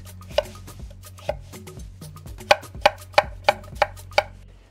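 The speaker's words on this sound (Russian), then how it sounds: "Вот знаете, как мы на суп режем. Вот так вот на половинке. А потом просто потоньше." A knife chops potatoes on a cutting board in a home kitchen for fried potatoes, with a series of crisp, close thuds that speed up into a steady rhythm of about eight cuts.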